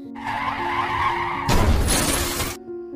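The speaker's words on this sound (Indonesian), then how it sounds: "Tanpa sengaja dia menabrak sebuah mobil yang tiba-tiba mundur." A car engine hums and tires skid, then a car crashes into another car that is suddenly reversing, giving a loud burst of smashing metal and shattering glass before the noise drops away.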